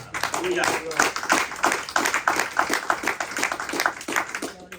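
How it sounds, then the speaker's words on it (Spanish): A church congregation claps for Christ during a Spanish-language sermon, with loud, rhythmic, fairly steady group clapping sustained throughout, mixed with voices and cheering. "Den un aplauso a Cristo."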